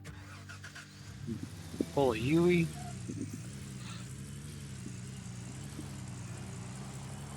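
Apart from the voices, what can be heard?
truck engine starting and running in video game Gold Rush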